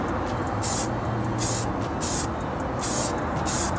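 Aerosol spray of thin filler coats onto 3D printed prop sword parts, five loud hissing bursts about a second each at an even rhythm, close by, with a steady background hum between them.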